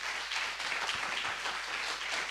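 Audience applause at a neurotherapy convention, a steady dense wash of clapping that holds at an even level throughout with no voices on top.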